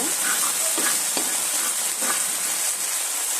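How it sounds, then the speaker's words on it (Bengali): Dried chillies and ground pepper sizzle as they are stirred in a hot pan, a constant bright frying hiss with a few soft scraping strokes of a spoon, close and steady with no talking. "এখন আমি ভালো করে এগুলোকে একটু নেড়ে চেড়ে নেব"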